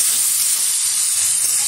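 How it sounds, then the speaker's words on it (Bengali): Fish head, a gule or pituli fish, frying in hot oil seasoned with turmeric, giving a steady, fairly loud sizzling hiss that barely changes, with a soft crackle underneath and no voices. "এটা আমি সুন্দরভাবে ভেজে নেব।"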